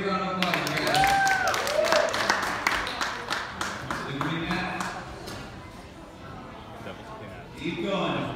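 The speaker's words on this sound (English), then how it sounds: "Let's give him a big round of applause." Applause and clapping from an audience at a children's competition for 9 to 11 year olds, rising early and tapering off under an announcer's voice, with scattered claps continuing.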